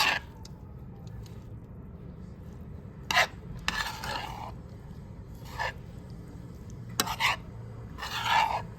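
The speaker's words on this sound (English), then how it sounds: "So we're just gonna mix it all together." Stuffed cabbage roll filling being mixed together, with intermittent wet squishing and rasping bursts of mixing spaced across the quiet, close and fairly soft.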